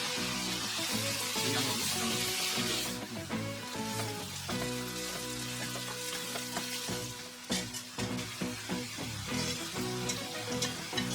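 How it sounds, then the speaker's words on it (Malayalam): Thinly sliced onions fry in oil in a pan for Kerala-style prawn biryani, making a steady crackling sizzle with a few stirring scrapes, while background music plays underneath. "പാനിലേക്ക് കുറച്ച് ഓയിൽ ഒഴിച്ച് ചൂടാകുമ്പോൾ 4 സവാള കനം കുറച്ച് നീളത്തിലരിഞ്ഞത് നന്നായി ഫ്രൈ ചെയ്ത് മാറ്റി വയ്ക്കുക"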